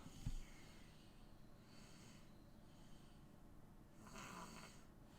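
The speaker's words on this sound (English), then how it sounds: "that's my little boy snoring there" A small boy snores softly indoors, drawing several slow, rasping breaths at a low level, with a louder snort near the start and another strong breath toward the end.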